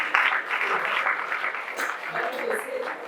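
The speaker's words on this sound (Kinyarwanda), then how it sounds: "umwomera amashyi menshi cyane" At a Rwandan gift presentation event, an audience applauds in a broad, lively burst of clapping while voices talk and call out through it.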